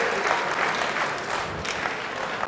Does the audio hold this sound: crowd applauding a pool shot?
yes